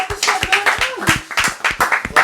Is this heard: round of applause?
yes